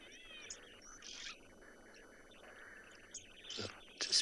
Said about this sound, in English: I can hear some oxpeckers as well, which are also hole nesting birds.